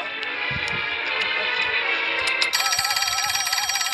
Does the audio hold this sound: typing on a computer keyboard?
no